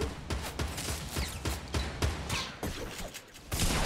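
Rapid bursts of Fortnite gunfire crack repeatedly at close range, sharp evenly spaced reports running through the whole stretch with only brief gaps.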